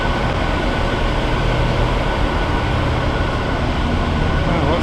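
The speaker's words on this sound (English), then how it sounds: "Oh, the train's still here." A diesel train stands idling nearby, giving a steady, loud low rumble with broad mechanical hum that holds evenly throughout without pauses or voices.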